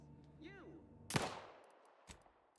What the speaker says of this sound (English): Yep, another gunshot.